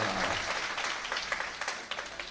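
An audience at a Gujarati folk storytelling and music gathering claps together in a fairly quiet, steady burst of applause that tapers slightly toward the end.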